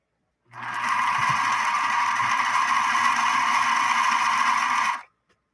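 A Bernina Minimatic 707 sewing machine runs fast and steady, stitching through four layers of denim, a loud continuous whirring drone that starts abruptly and stops cleanly after about four and a half seconds.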